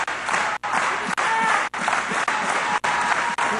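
Wrestling crowd at a TCW match applauding a big move in the ring, a steady wash of clapping and cheering broken by several brief dropouts, with faint commentary underneath.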